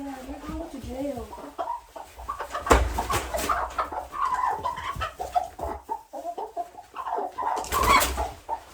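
A broody hen lets out soft, repeated clucks and low murmuring calls close by, mixed with quieter voices and a couple of sharp bumps and rustles.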